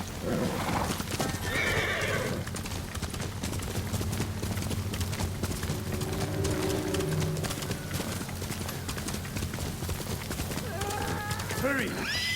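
Horse hooves clip-clop at a steady gallop in Ghost of Tsushima, with a clear neigh partway through and another whinny near the end. Game voices talk over the hoofbeats, and faint birdsong comes through underneath.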